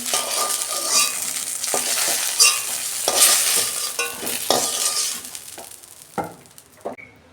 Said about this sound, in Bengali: বেগুনগুলো আমি ভেজে নিয়েছি, আমি তুলে নিচ্ছি